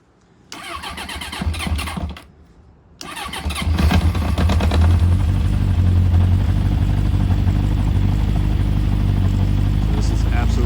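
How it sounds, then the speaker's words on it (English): A 1980 Honda CB750F motorcycle is cold-started: the starter cranks twice with a brief pause, then the four-cylinder engine catches and settles into a loud, steady idle close by. "This is absolutely a cold start to this engine."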